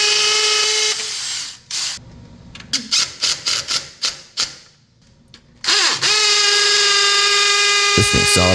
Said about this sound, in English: switches it to hammer drill